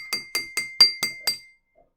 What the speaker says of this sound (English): They all sound the same when you hit them when they're empty.